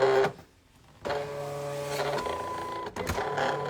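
A Silhouette cutting machine, a Portrait or Cameo, cuts a card with blade at 6, force 33 and a single pass, giving a close mechanical whir of carriage and rollers that pauses briefly, then resumes in steady motorized runs.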